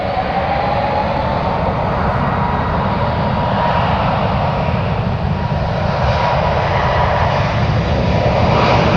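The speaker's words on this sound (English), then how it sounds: "Some more amazing sounds for the departures. That one heading off to Chicago O'Hare" An airliner departs San Francisco airport for Chicago O'Hare, its jet engines a loud, sustained roar that holds steady throughout, with no talk.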